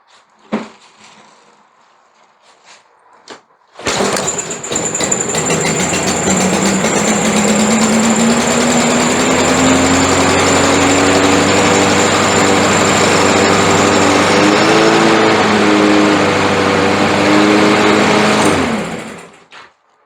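Small carbureted engine with a little gas in the carburetor, pulled over and then running loudly for about fifteen seconds, close by, before cutting out abruptly.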